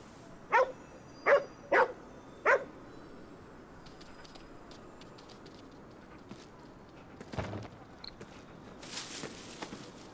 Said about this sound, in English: I like it when a dog says,